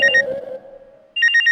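A phone ringtone plays a short electronic melody, fades, then starts again with repeated bright beeping tones, close and loud.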